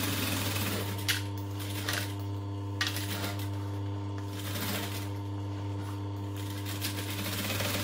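Sewing machine stitching around a backpack seam with a steady low motor hum and rapid needle clatter, with brief pauses and shifts in pace as the fabric is turned.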